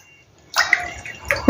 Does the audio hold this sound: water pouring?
yes